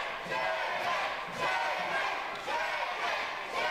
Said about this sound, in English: they're still booing him